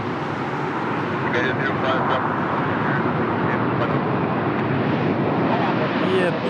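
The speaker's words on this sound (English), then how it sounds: "we have the BA, the Speedbird Airbus A320 Neo from Heathrow, London" A British Airways Airbus A320neo at an airport, a steady broadband jet engine rumble that holds at moderate loudness, with wind buffeting and a voice in the background.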